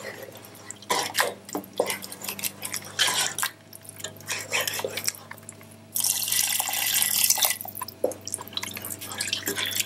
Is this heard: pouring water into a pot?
yes